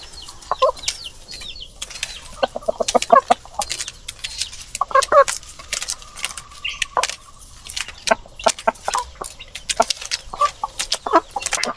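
Heritage chickens cluck and call on a farm, a string of short, close clucks and squawks with brief bursts of wing flapping and rustling between them.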